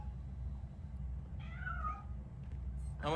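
A cat meows in the video game Robocop Rogue City, one short wavering mew over a low steady game background hum, followed by a brief second sound at the end.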